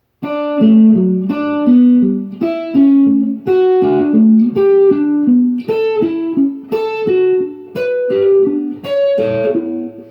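Clean guitar arpeggiates triads one note at a time, steady rising and falling patterns in small groups, clear and close.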